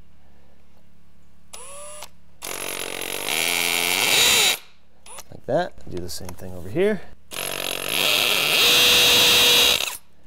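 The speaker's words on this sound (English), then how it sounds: "Put this in my hammer drill." A hammer drill whirs loudly into concrete in long sustained bursts, interrupted by a short pause where a person speaks briefly between drilling runs.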